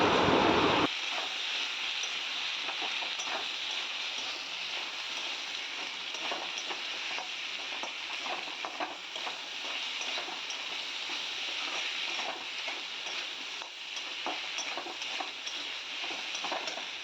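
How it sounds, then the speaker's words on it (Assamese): Spices, including ground coriander, stir-fry in a pan on low heat with a soft, continuous sizzle, broken by light scraping of a spatula at irregular intervals. "এতিয়া মই এইখিনি লৰাই ভাজি থাকিম কম জুইত"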